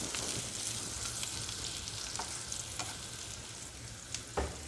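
Garlic fries in a hot pan, a close, continuous sizzle with scattered pops and splatters throughout, no voices.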